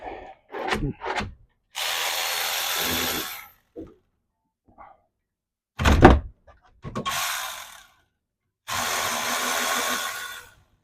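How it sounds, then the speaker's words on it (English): A power tool whirs in three sustained bursts of a second or two each while a brake caliper is removed from a 2017 Toyota Corolla, close and loud, with metallic clunks and short taps between the runs. "Now, I'm going to pull brake caliper off."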